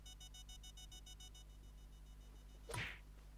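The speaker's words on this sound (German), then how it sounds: "Wecker eingebaut." An animated alarm clock rings in rapid, evenly pulsed bursts for over a second. After a pause, a sharp whack-like hit lands, all over a steady low hum.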